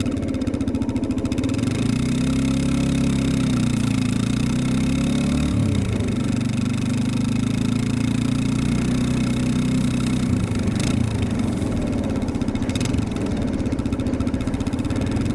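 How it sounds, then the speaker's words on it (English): A motorcycle engine idles steadily while warming up after a first start, a continuous low rumble that stays close and even throughout, with a slight shift in pitch partway through and no talking. "this bike takes a little while to get warmed up"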